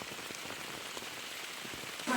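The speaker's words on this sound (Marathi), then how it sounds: "असो पाऊस भरपूर आहे" Steady heavy monsoon rain patters down in the Konkan with distinct drops striking nearby surfaces, a moderate continuous hiss heard alone without speech.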